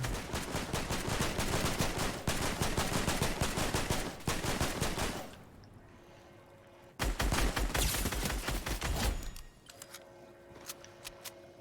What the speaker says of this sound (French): Il y en a un qui nous tire derrière